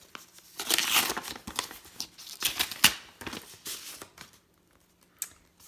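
Paper and packaging crinkle, rustle and tear in close, irregular bursts as a mailed holiday package from Australia is opened by hand, fading to quiet near the end.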